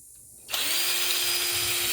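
A power drill starts abruptly and then runs steadily, close and loud, as its bit cuts through the wooden wall of a handmade lamp. No talking.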